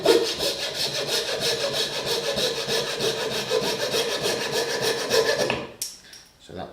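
A coping saw cuts through wood while a rocking horse is shaped, with quick regular rasping strokes close to the microphone that stop abruptly near the end, leaving a few faint handling clicks.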